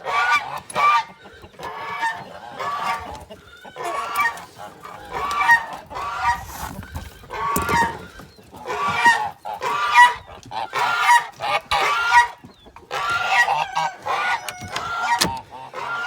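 Geese on a homestead honk repeatedly in the morning, a loud, close chorus of overlapping calls in uneven bursts that continues throughout without pause.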